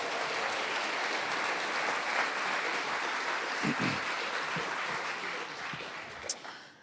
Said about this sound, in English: Can we give another round of applause for all of our honorees?